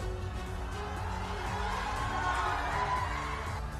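Crowd at Nadda's political rally in Motihari cheering and shouting in a steady, dense roar that fills the whole stretch, with scattered whoops rising above the din.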